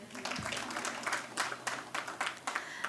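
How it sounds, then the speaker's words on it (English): An audience at a Kenyan government event on femicide and safe spaces breaks into faint, scattered applause, with irregular bursts of clapping heard from some distance and a voice briefly audible at the start. "You can clap."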